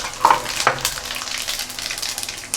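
Cumin and fennel seeds, added after urad dal and mustard seeds, fry in hot oil with a close, steady sizzle and a few sharper crackles and stirring scrapes, no talk.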